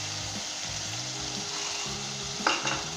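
Beef qeema korma with browned onion, lemon juice and yogurt frying as it is stirred, a constant close hiss and sizzle with a sudden scrape of the spoon near the end.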